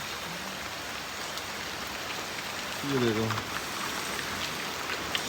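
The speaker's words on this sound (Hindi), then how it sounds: "देहरादून में मानसून वाली बारिश स्टार्ट हो चुकी है" Heavy monsoon rain pours steadily in Dehradun, a dense, even hiss of drops on surfaces throughout, with someone speaking briefly near the middle.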